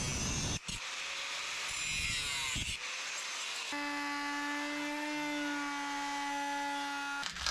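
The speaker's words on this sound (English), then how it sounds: "see if I can cut every second line of tread out" A hand tool grinds steadily through the rubber tread of a fat trike tire, a continuous buzzing, whirring cut with a brief pause near the start and a shift to a higher, steadier tone partway through.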